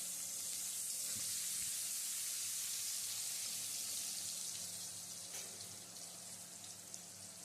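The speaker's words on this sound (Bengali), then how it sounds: "পেঁয়াজ কুচি, পেঁয়াজটাকে একটু লাল লাল করে ভেজে নিতে হবে" Chopped onions fry in hot oil with nigella seeds, giving a soft, continuous sizzle and hiss that eases slightly toward the end.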